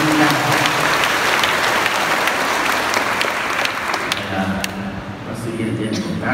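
Sustained applause from a church congregation at a Catholic Mass, dense and steady clapping that fills the whole stretch with a slight dip near the end before picking up again.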